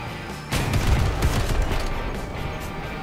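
A Spectre-2 machine gun opens fire in the vehicle combat game Crossout, starting abruptly after a brief lull and continuing as a loud, sustained rattling burst.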